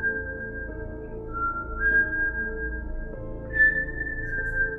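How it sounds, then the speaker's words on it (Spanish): An eerie whistle drifts out of pitch-dark vegetation in a roadside horror tale. It is a thin, wavering tone that slides in pitch over a low, murky musical drone, moderately loud and sustained throughout, with no speech. "escuché un silbido que salía del fondo de la vegetación"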